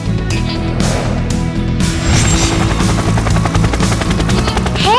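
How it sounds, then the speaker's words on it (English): A loud, steady helicopter rotor thumps continuously, close and droning throughout with no voices, in a children's cartoon. "I am a helicopter. I can fly and hover in the sky."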